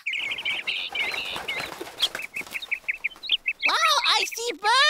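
Birds flock in for birdseed on a children's TV show: a flurry of chirps and clucking calls with wing flapping, then loud rising bird cries toward the end, mixed with excited voices.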